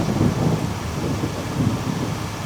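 Steady rain with low thunder rumbling on a rainy day at Lake of the Ozarks State Park, a continuous soft wash with muffled low swells, moderately quiet and without voices.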